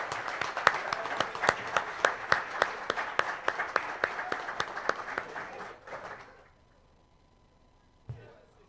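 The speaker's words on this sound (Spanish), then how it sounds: "Un aplauso para nuestro vicegobernador" An audience at a Patagonian parliamentary session applauds the vice governor, with clear individual hand claps in a quick steady rhythm for about six seconds before dying down, followed by a brief thump.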